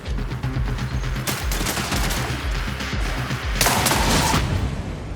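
Rapid gunfire from a gun in the Marathon video game rattles out in continuous close bursts with a sharp crack partway through, a dense loud stream of shots with no talking.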